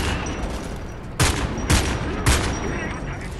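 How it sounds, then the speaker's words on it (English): Gunfire in the video game Homefront: The Revolution: three sharp, loud shots spaced about half a second apart over a steady background of battle ambience. "I'm getting shot at, aren't I?"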